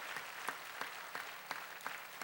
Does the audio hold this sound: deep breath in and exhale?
no